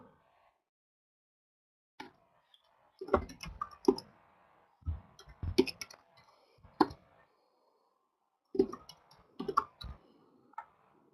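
Typing on a computer keyboard in a quiet room, sparse bursts of soft key clicks in short clusters separated by pauses, faint and close.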